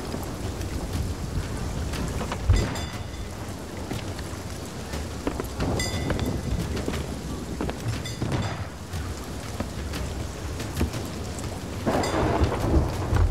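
Steady rain with rolling thunder in a Sea of Thieves thunderstorm, with a dense hiss throughout and several booming cracks, loud and close, with no talk.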